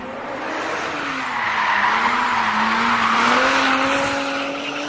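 A race car drifting at a grassroots event, engine droning under heavy throttle while the tires squeal and skid continuously for several seconds, loud and close with a wavering pitch.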